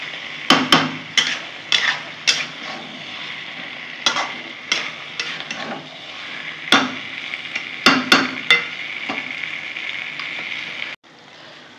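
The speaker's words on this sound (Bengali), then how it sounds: "আবারও নাড়িয়ে নেব, ভালো করে নাড়িয়ে নেব" Vegetable curry stirred in a pan, with a dozen or so sharp scraping and clattering strokes of a spoon against the metal at an uneven rhythm over a soft sizzle. The strokes are close, and a brief pause falls near the end.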